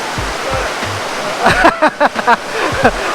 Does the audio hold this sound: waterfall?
yes